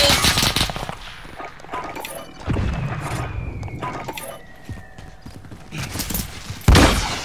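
Rapid gunfire in an online multiplayer shooter game comes in repeated loud bursts and bangs, layered with other game effects throughout.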